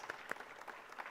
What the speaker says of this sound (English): Give her a very big round of applause